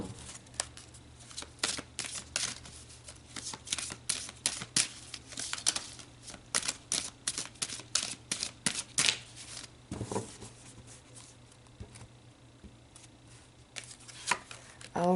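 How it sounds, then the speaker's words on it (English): Tarot cards are shuffled and drawn by hand, giving a run of quick crisp riffles and flicks, close and fairly soft, that thin out into quieter handling toward the end. "So let's pull some more cards"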